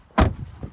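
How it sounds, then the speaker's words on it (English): A storage lid under the center armrest of a 2017 Chrysler 300C Platinum shuts with a single short, solid thud, close by, followed by faint low rustling. "there's a little bit of a storage inside of here if you need it. And we'll close that one back up."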